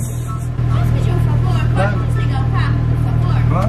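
A Nissan 350Z drift car idles with a constant low, droning rumble that starts abruptly after a brief pause and holds steady, while people talk close by over it.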